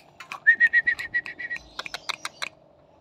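A canary in an aviary sings a quick run of repeated chirping notes followed by scattered sharper chirps, close and clear, with no talking.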